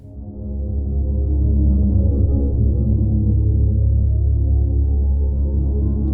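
A low, rumbling synth pad from the Zebra HZ synthesizer swells in and sustains, a dark droning tone that shifts slowly over time with no voices.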